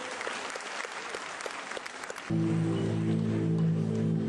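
An audience at a school annual function claps for a couple of seconds, then the applause gives way abruptly to a loud sustained musical tone.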